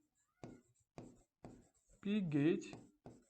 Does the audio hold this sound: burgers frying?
no